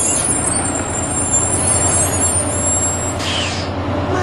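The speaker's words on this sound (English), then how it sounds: "My bus is here." A bus pulling up with a steady rumbling engine and a loud hiss of air brakes partway through, no voices.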